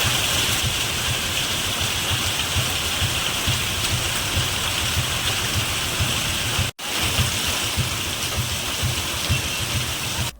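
Heavy rain pouring steadily and loudly, a dense continuous hiss and patter that runs the whole time with a brief cut partway through.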